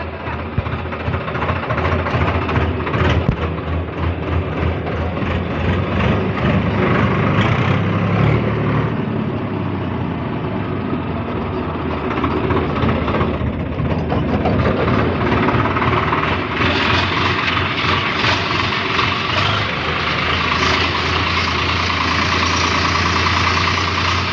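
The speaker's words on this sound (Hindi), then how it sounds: "रोटावेटर जोड़ लिया है। चलो जी चलते हैं अब।" A Swaraj tractor engine with a rotavator attached chugs steadily at a low rumble throughout, loud and close, with no break in its running.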